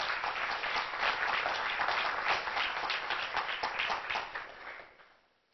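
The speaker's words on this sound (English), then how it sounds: "would everybody please give AEP Texas a round of applause for being our biggest" An audience at a conservation photography event applauds a sponsor, AEP Texas, with dense, steady clapping from many hands that holds strong before tapering off and fading out at the end.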